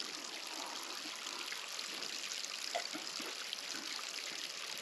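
Steady trickling of Cambridge Crag mountain spring water in the Lake District, a small spring running continuously, fairly close and soft, with no voices.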